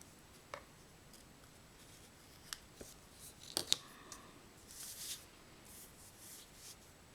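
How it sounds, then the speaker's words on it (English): Scissors snipping craft string, a few faint, quick crisp clicks and rubbing sounds in a quiet room, with a brief cluster of small cuts in the middle. "just trim it a little bit because I don't need it to be that long"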